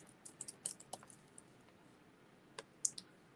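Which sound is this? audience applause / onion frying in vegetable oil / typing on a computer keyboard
typing on a computer keyboard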